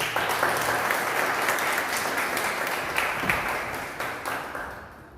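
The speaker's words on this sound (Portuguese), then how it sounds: "Aplauda o Senhor." A church congregation applauds during a worship service, with sustained, even clapping from many people that holds steady throughout and no voices on top.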